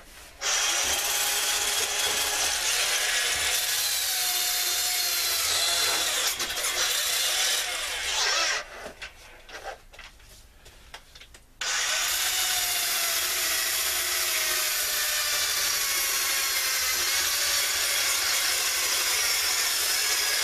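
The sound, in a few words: power tool removing rust from an old PC case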